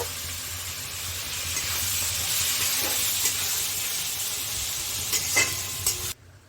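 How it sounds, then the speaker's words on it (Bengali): Steady sizzling of chopped onions lightly frying in a pan for dhaba-style chicken, with occasional scraping clinks as they are stirred, loud and close until it cuts off near the end. "এবার আমি পেঁয়াজ কুচনোগুলো এর মধ্যে দিয়ে দিচ্ছি। অল্প নেড়ে নেব"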